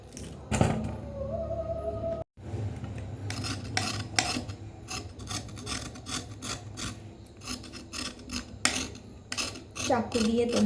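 Carrots being peeled with a knife in a home kitchen, a close, repeated rasping scrape of blade on carrot with small clinks of utensils and a brief pause, no talking.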